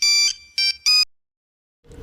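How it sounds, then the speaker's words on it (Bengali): A phone rings nearby in three electronic bursts, the first longer and the next two short, loud and tonal, followed by a pause and then faint rustling. "প্লিজ ফোনটা ধরো"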